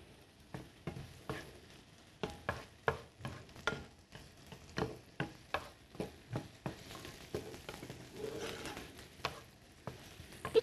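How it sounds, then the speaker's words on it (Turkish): Onion sautéing in a pan while being stirred for a spinach quiche, with repeated sharp scraping strokes in a steady rhythm over a soft background sizzle, close and fairly quiet. "Güzelce şimdi soğanım soteleniyor."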